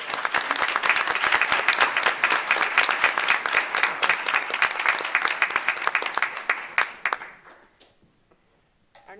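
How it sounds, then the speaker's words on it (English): An audience at a city school board meeting applauds. Dense, steady clapping carries for about seven seconds, then thins out and fades to near silence. "Another round of applause for our public library."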